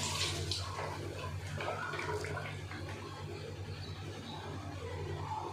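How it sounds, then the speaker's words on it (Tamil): Water poured steadily into a pot of country chicken curry on the stove, a continuous splashing rush over a low hum that holds at a fairly even level throughout, with no talking. "இது எவ்வளோ தண்ணி வேணுமோ பார்த்து போட்டுக்கணும் ஊற்றிக்கிங்க"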